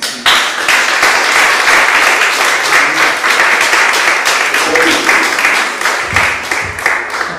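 Congregation in a church applauding loudly, a dense, sustained wash of many hands clapping for about seven seconds, with faint voices mixed in near the end.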